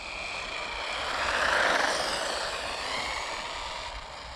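Electric RC model motor, a Haiboxing mini buggy, winding up steadily to full throttle, a broadband whine that rises and swells mid-clip then holds at high revs, heard from close by with no talk.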